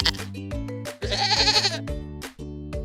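Goats on a farm bleat several times in quick succession, with loud, wavering, nasal cries close by and short pauses between calls.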